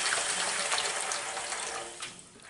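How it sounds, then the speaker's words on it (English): Water rushes from a water heater relief valve discharge pipe in a brief, steady hissing gush, close and moderately quiet, fading slightly toward the end with no speech. "You're going to lift the lever about halfway up and drain a few cups of water."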